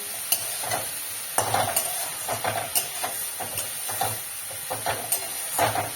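Drumstick flowers stir-fried in a pan for a traditional Bengali chorchori, giving a steady close sizzle and hiss with repeated scraping stirs and soft clinks throughout.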